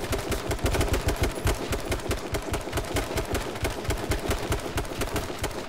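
Sustained automatic weapon fire in H1Z1 King of the Kill, a steady rattling stream of shots that stays loud and close for several seconds, with a low vehicle engine rumble faintly beneath.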